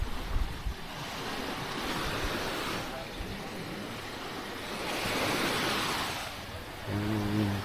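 Surf washes onto the beach at Anda, Bohol in broad rolling swells that rise and fall, mixed with wind buffeting the microphone, and faint voices can be heard near the end.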